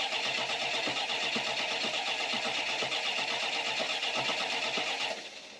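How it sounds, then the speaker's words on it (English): A classic car engine, its fuel pump just fixed, running steadily and loud with a dense mechanical rattle through nearly six seconds, then dropping off abruptly near the end. "Now we're gonna pray and spin the motor and see if anything happens."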